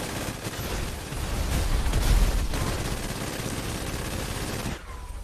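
Sustained burst of machine gun fire in GTA V role-play, a dense rattling barrage with heavy low rumble that swells midway and cuts off near the end, loud and close, no talk.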